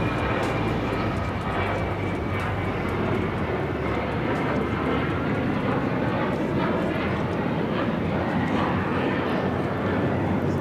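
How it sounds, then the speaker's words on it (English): An Alaska Airlines Boeing 737-900ER jet taking off at LAX, its engines producing a loud, steady, broadband roar that holds without a break throughout. "Alaska Airlines 1219 taking off to Seattle on the 737-900ER"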